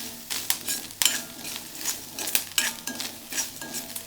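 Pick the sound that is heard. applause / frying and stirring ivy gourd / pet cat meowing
frying and stirring ivy gourd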